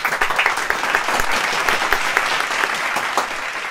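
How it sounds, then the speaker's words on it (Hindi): Enthusiastic audience applause welcoming a guest on a Bollywood interview show, steady dense clapping throughout the short stretch with no talking. "जोरदार तालियों के साथ उनका स्वागत हो"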